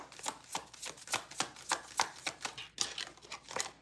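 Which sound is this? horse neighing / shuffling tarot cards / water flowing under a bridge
shuffling tarot cards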